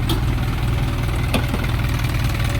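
A 2022 Isuzu Elf truck with a 4HG1 diesel engine, 4.2-ton capacity, idles steadily, a low, even rumble with a faint knocking pulse and no voices.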